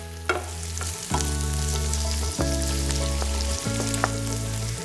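Chorizo sausage sizzling and frying in a pan, stirred in several distinct scraping strokes against the pan over a steady close sizzle, with no talking.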